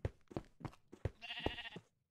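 Minecraft sheep bleating in a few short, quiet calls, a quick burst of choppy bleats followed by one longer wavering bleat that cuts off into silence.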